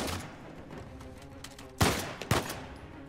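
Gunfire in Uncharted 4: two sharp, loud shots about half a second apart ring out over a busy background of game noise and distant rattling fire.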